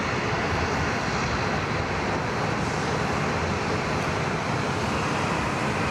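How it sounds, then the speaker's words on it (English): A United Boeing Dreamliner airliner at Sydney Airport produces a steady, loud broadband jet roar that holds constant throughout, heard from a distance with a faint background of traffic and no voices. "Here comes our United Dreamliner."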